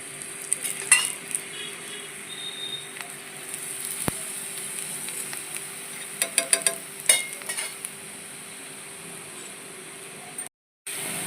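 A tomato paratha fries with oil on a hot tawa, giving a quiet, steady sizzle with occasional clinks and scrapes of a spatula, a sharp knock near the middle and a brief cutoff near the end, with no talking.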